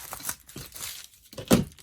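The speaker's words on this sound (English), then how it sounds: "let me just cut these open and I can get these items out" Amazon packages being cut open, giving a few short tearing and crinkling bursts of plastic or paper, close and fairly quiet, the loudest rip near the end.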